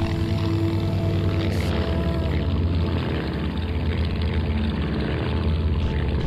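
Propeller engine of a Ki-27 fighter plane in a flight simulator during an aerobatics display, a loud, steady droning hum that holds constant throughout with no talking.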